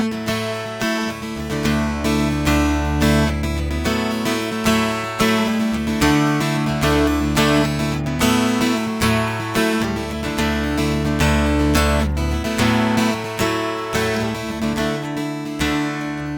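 An electric guitar plays a part from a song, with steady rhythmic strummed chords that ring loud and full, close up and alone with no talking.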